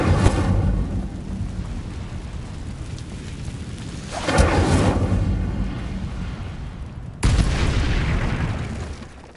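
Incendio fire spell cast in the Hogwarts video game, heard as loud, roaring, thunder-like whooshes with three broad surges across the clip and no talking.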